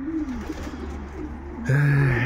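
Pigeons coo in low, rolling phrases, close by, with a louder, steadier coo near the end over faint background hiss.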